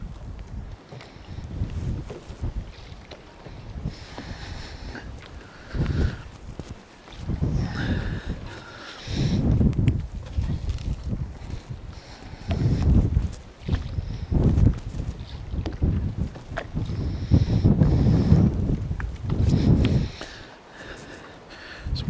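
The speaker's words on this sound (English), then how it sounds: "Mega windy, it's going to be hard to hold bottom or anything" Strong wind buffets the microphone beside open water at Hickling boat yards on the Norfolk Broads during float fishing, with steady rushing and repeated heavy low gusts that swell and fade throughout, loud and close.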